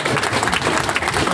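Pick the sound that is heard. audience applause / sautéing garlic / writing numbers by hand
audience applause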